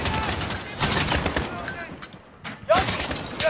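Rapid gunfire and scattered shots from a Call of Duty Modern Warfare match, loud bursts broken by short pauses, with game voice chatter mixed in.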